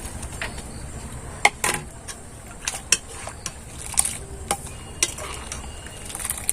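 Rice-flour pitha being stirred in a pot of milk syrup, with soft scraping and sharp spoon clinks against the pot scattered through a low, steady background.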